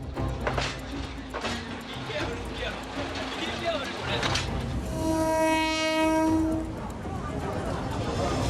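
A train horn blares in one sustained blast over background noise and rail rumble, with people talking around it.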